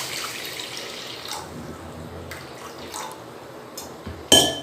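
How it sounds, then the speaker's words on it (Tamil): Two cups of water poured into a tawa pan for rava kola urundai: a soft running, trickling flow with faint splashes, then a louder clatter right at the end. "அதுக்கு ஒரு டவா எடுத்து வச்சுட்டு ரெண்டு கப் அளவுக்கு தண்ணி ஊற்றிக்கோங்க"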